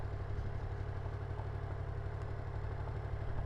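A steady Yamaha MT-10 sport motorcycle engine with stock exhaust idles close by, a continuous low rumble with an even throb and no voices.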